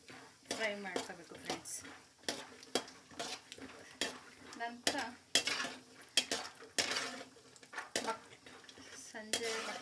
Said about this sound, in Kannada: ನೆಕ್ಸ್ಟು ನಾನು ಕಡಲೆ ಬೀಜನ ಸ್ವಲ್ಪ ಫ್ರೈ ಮಾಡ್ಕೊತೀನಿ